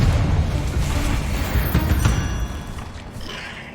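A Confringo fire spell goes off in Hogwarts Legacy as a deep, rumbling blast that swells and then fades over a few seconds, loud and close with a crackling tail.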